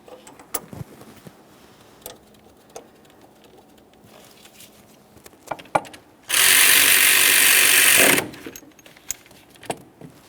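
A ratchet snugs a cleaned, threadlocked upper steering shaft bolt on a 2004-2008 Ford F-150, with scattered clicks and clinks of handling before a loud, fast two-second burst of ratcheting, then a few more light taps.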